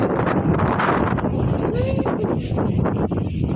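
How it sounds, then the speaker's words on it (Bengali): Strong wind blowing across a rooftop, a loud, constant roaring buffet of gusts hitting the microphone, with no letup and no voices. "তো দেখো কেমন জোরে জোরে বাতাস বইছে"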